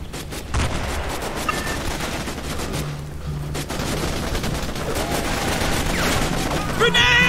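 Sustained gunfire rattles through a battle in Raven Squad, a dense, continuous fusillade of rapid shots with louder bursts near the end, and voices shout over the din.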